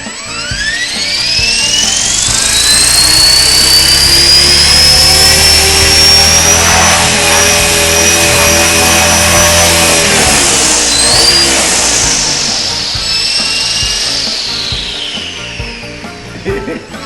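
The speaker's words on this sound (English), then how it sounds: "let's go ahead and run up the motor and see how this spins." A Blade 400 RC helicopter's electric motor and rotors spin up indoors in a garage, a high whine rising and holding steady at full speed before winding down near the end, loud and close.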